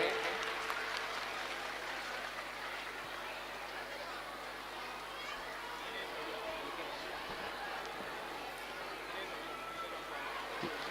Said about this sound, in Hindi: इनका जोरदार हम तालियों से स्वागत करते हैं।